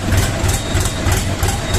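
A cold DTZ minitractor diesel engine idles on a frosty day, a loud, close, steady low rumble with rhythmic pulsing throughout.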